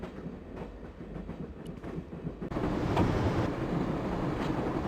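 A moving train in the video game Broken Sword, a continuous low rumble with faint rhythmic clatter that grows louder partway through, steady and close with no voices.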